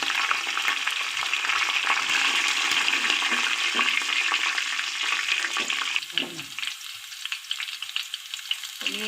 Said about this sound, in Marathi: आता यामध्ये मी कढीपत्ता घालून घेते।